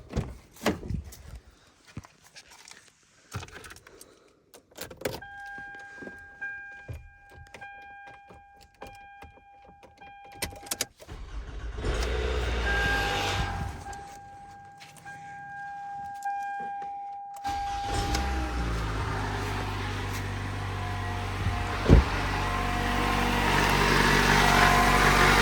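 A Toyota Camry 4-cylinder with 280,000 miles and a freshly rebuilt alternator. Warning chimes ring steadily, then the noisy engine cranks, catches and settles into a loud, rough idle close by.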